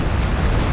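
A Stuka dive bomber's explosion in Company of Heroes 2 booms as a loud, sustained low rumble of blast and debris, filling the short moment without a break.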